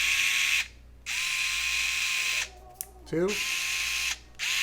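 Torque knob on an electric screwdriver kit clicking through its settings, a few short mechanical clicks and ratchety whirs in bursts between a man's speech, close and fairly loud.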